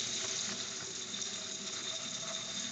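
Water from a tap runs steadily over a frying pan being washed on a kitchen counter, a constant close hiss and splash with no talk.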